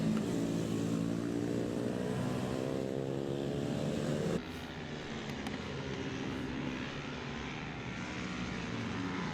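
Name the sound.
pit bike 140 motorcycles racing on a kart track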